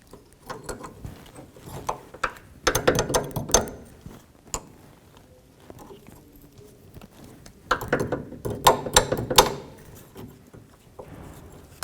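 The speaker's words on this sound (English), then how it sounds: "18mm wrench, and we're going to snug up the Pitman arm tie rod end" An 18mm wrench snugs the Pitman arm tie rod end on a 1984-2001 Jeep Cherokee during a tie rod replacement, producing two bursts of rapid metallic ratcheting clicks close to the mic, separated by quieter clinks and handling noise.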